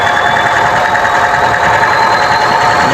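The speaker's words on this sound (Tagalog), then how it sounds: "Misfiring po siya." A Chevrolet Trax engine idles with a misfire, marked by an uneven, knocking, rough rhythm under a steady mid-pitched hum with whining tones, heard close and continuous.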